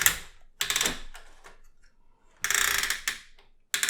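Ratchet leg joint on a Transformers War for Cybertron Unicron toy clicking in several close, loud bursts of rapid mechanical clicks, with short pauses between them.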